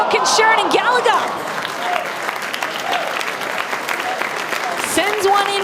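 Stadium crowd at an A-League football match roaring and applauding in a broad, sustained wash of noise, with whistles and shouts and an excited commentator talking over it.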